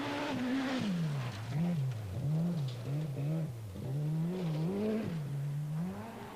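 A Toyota rear-wheel-drive Group B rally car at the 1986 Scottish Rally, its engine rising and falling through repeated revs and gear changes, loud and close, with no talk.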